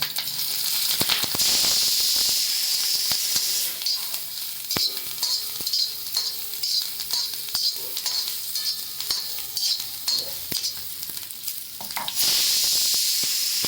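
Garlic and cumin sizzle loudly in a little hot oil with green chillies, a continuous bright crackling fry broken by a few stirring scrapes, with no voices over it.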